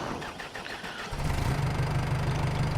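A Farmall-sounding tractor engine in Farming Simulator 25 starts with a brief cranking whir, then catches and settles into a steady, close, low diesel idle.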